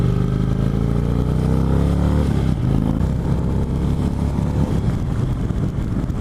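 A 2018 Indian Chieftain Dark Horse V-twin motorcycle engine revs loudly and close, its deep droning pitch climbing briefly before settling into a steady, rumbling throb.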